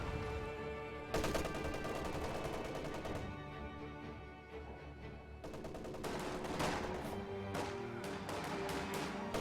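A grenade blast and heavy gunfire in a Company of Heroes match, dense rapid shots and bursts from several weapons continuing loud and unbroken, with no voices.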